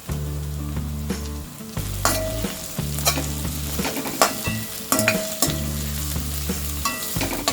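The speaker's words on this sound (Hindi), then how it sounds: "मीडियम फ्लेम में फ्राई करेंगे" Finely chopped green chilies and slit capsicum fry in a pan over medium flame, giving a close, steady sizzle broken up by clattering stirs, with no voices.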